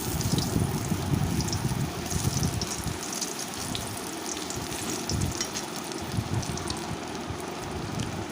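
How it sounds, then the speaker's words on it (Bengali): Brinjal slices fry in hot oil in a pan for a Bengali begun paturi recipe, giving a steady, close sizzling crackle. Brief scraping and stirring sounds break in as the pieces are turned. "ওলট পালট করেই বেগুনটাকে ভাজতে হবে"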